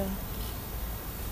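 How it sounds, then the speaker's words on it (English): Bees swarm overhead in a steady, dense buzzing chorus that stays fairly faint and continuous, with no voices over it. "It's a chorus of bees up there,"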